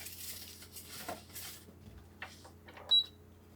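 Ground beef is dumped into a metal cooking pot, making soft, quiet clatter with a few light clinks of the pot and utensil over a low background hum.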